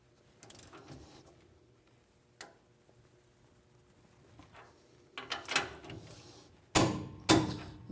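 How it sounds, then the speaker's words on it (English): A torque wrench tightens a castle nut to 100 foot-pounds on the rear end of a 1966 Dodge Charger, heard as quiet ratcheting ticks that build into a few sharp clicks near the end, close and otherwise fairly quiet. "this nut has to be torqued to 100 foot-pounds"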